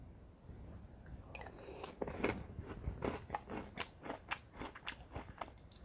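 Crunchy homemade keto cinnamon cereal eaten with unsweetened almond milk, giving close, loud repeated bites and steady wet chewing crunches with no talking.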